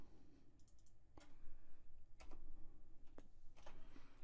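Sparse keystrokes on a computer keyboard, a handful of faint separate clicks spaced irregularly over a quiet background hiss.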